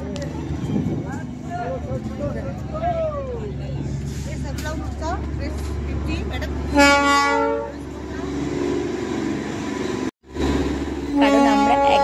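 The Darjeeling toy train sounds its horn at Batasia Loop, two loud tonal blasts cutting through steady engine and crowd rumble, with voices chattering nearby.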